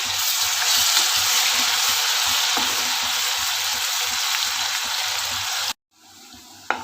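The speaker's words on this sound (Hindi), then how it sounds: "इसमें हमने जो लहसुन, अदरक, प्याज की पेस्ट डाली है वो डाल देते हैं, और इसको हम थोड़ा सा सौटे कर लेते हैं।" Garlic, ginger and onion paste with cumin sautés in hot oil, giving a loud, continuous close sizzle that cuts off abruptly near the end, followed by a brief quieter tail.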